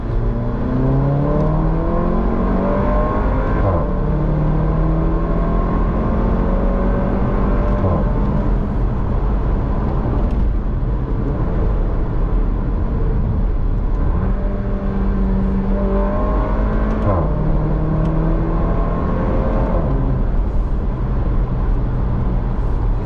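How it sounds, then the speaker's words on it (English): A Porsche Macan SUV engine revs up repeatedly at full throttle through rising gear changes, smooth and fairly subdued, with steady road and cabin noise underneath. "even if you floor it, it's still, with this transmission and the engine, it's just very quiet"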